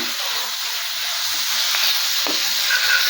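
Onion and tomato fry steadily in a pan for a Kerala eggplant masala, giving a close, continuous sizzling hiss with faint scattered crackles and no talking.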